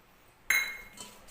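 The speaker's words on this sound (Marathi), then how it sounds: "हे अशा पद्धतीने मिक्स करून घ्यायचं आहे, म्हणजे सगळीकडं लाल मिरची पूड जी आहे आपण टाकलेली ती छान अशी लागते बुंदीला" Hot fried boondi stirred with red chili powder in a metal pot, giving one sharp clinking scrape of a spoon against the pot, then a softer rattle fading away.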